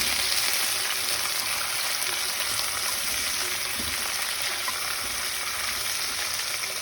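Onion and garlic fry in a pan while being stirred for kure mbaipy, a steady close sizzling hiss that stays even throughout, with no voices.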